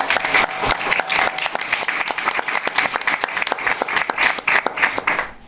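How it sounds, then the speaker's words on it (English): Loud, dense applause from an audience at a local short-film showcase evening in Buntingford, close and continuous with many overlapping claps before cutting off abruptly at the end. "Another round of applause for How to Sleep, please."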